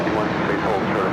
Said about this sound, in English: China Airlines cargo, the 777 freighter now crossing over 25 left.